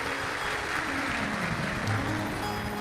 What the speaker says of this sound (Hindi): इन सभी यजमानों के लिए एक बार जोरदार ताली बजाकर स्वागत, वंदन, अभिनंदन।